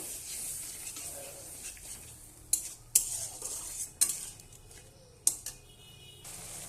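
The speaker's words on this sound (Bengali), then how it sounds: "মশলার সাথে আরেকটু ভালোভাবে আমি কষিয়ে নেব" Cooked prawns are stir-fried with spices in a pan: a soft background sizzle punctuated by four or five distinct spatula scrapes and knocks against the metal, close and unaccompanied by speech.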